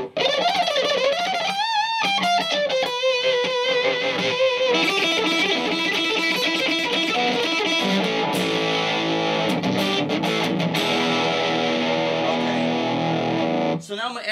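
Electric guitar on the neck pickup with boosted mids, run through a Monkey FX distortion pedal for a thick fuzzy tone similar to a Big Muff. Long, loud and close, with bends and sustained chords holding steady before a brief cutoff near the end.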